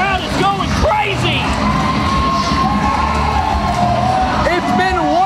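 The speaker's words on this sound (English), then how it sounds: "This crowd is going crazy!" A wrestling crowd at a falls count anywhere match cheers and whoops wildly, a loud continuous roar of shouting voices with a commentator talking over it.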